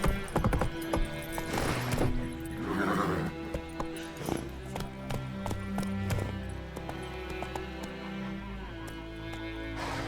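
Horse hooves clopping at a gallop with a whinny in The Witcher 3, heard over a dense orchestral game score with steady rhythmic hoofbeats throughout.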